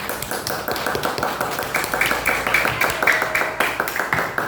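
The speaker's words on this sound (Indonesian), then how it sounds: "Kita kasih tepuk tangan" A classroom of students applauds after a group presentation, steady rapid clapping at moderate volume from a nearby crowd, continuing evenly with little talk.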